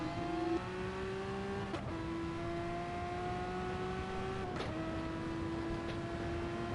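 A race car in a racing video game runs at full throttle down the Fuji Speedway straight, its steady engine whine climbing through the gears with brief dips at each shift, loud and close, with no talk.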